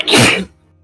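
A single sharp sneeze, close and loud, bursting out and cutting off quickly into silence.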